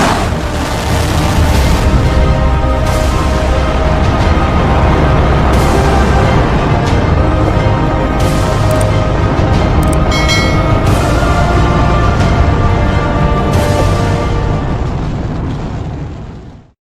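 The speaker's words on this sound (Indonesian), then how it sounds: "Ini adalah video tentang teori ledakan Big Bang" A massive, sustained rumbling roar with crackling bursts, like a huge explosion rolling on and on before cutting off abruptly.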